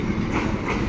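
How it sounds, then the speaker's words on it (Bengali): A large long-distance passenger train with onboard catering, the Lalmoni, rolls along the rails in a steady close rumble with faint wheel clatter, no voices. "এই ট্রেনটি"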